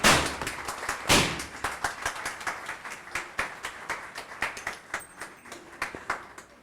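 A small audience at an OsmAnd T-shirt ceremony claps, with a loud opening burst settling into steady, rhythmic hand claps that fade toward the end.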